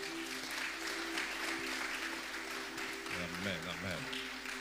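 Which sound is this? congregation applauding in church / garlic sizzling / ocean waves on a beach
congregation applauding in church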